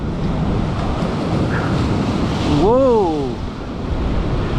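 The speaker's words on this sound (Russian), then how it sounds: "чтобы волны получше подснять." Stormy sea waves crash on the shore at Bugaz in Crimea with a constant loud roar, heavy wind buffeting the microphone and a surge near the middle; a voice gives a short exclamation over it.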